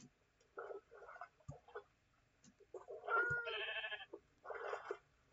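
Sheep in the Minecraft video game bleat in short, nasal bursts, several calls spread across a few seconds, close and clear against a quiet background with no speech.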